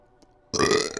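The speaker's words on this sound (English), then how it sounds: "Oh, I got a burp." A single loud burp bursts out after near silence, close to the mic, lasting about half a second with a rough, gurgling texture.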